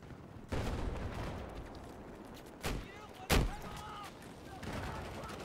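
Gunfire and explosions from the Battlefield 4 multiplayer game on the Siege of Shanghai map, with a steady roar of battle, a sharp blast near the middle and a louder close boom soon after, then continuing rumble.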